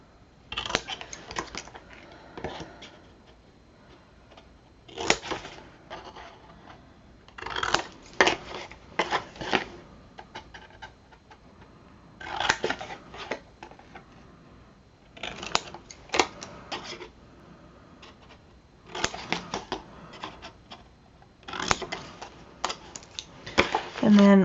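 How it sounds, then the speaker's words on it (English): Scissors snip through paper for a mini album in repeated bursts of quick, crisp cuts separated by short pauses, close and clear with occasional light handling noise and no talking. "so I'm going to grab my scissors. We are going to cut out the square on all 3 pieces"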